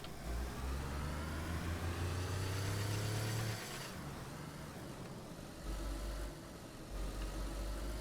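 A game ATV in DayZ idles with a steady low engine rumble for several seconds, then the tone drops and settles into a quieter idle with intermittent low pulses; no one speaks.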